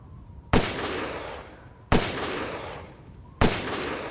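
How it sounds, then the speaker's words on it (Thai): Three loud, evenly spaced gunshots from a weapon in the video game Resident Evil Village, each a sharp close blast with a short ringing metallic tail, separated by quiet pauses of about a second and a half. "โดยลักษณะการยิงก็จะเป็นแบบนี้เลยแหละครับ"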